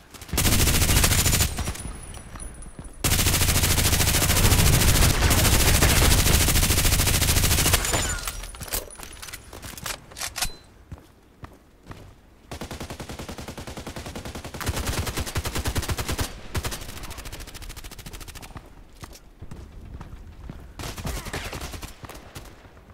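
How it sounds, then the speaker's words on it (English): Machine-gun fire in the shooter game Contract Wars comes in long, dense bursts, loud and close, broken by quieter gaps with lighter rattling shots. "everybody hears where I am because my machine gun is so loud"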